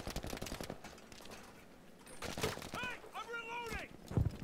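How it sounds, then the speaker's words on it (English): Gunfire from a tank in a combat video game, a rapid burst of sharp shots, then mechanical whines and a final heavy report, moderately loud among other game sounds. "Oh my god, there's a tank shooting at us."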